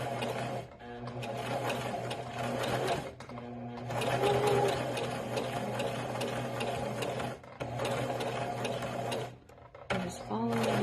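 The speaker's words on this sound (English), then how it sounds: "This is my sewing machine I gave to my daughter," A home sewing machine stitches fabric for a beginner's bunny pattern, running in steady whirring bursts with short pauses between runs, close by and fairly loud.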